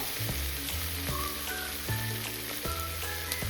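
Onion and tomato fry in oil for a homemade chicken biryani, a continuous close sizzle broken by a few distinct clinks and scrapes of a spoon stirring the pan.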